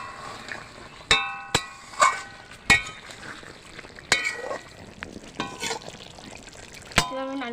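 Cooked goat-meat curry with hand-ground spices and garam masala stirred in a pan: sharp clinks and scrapes of a utensil against metal come every second or so over a soft background sizzle.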